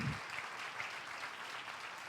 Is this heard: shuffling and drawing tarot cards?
no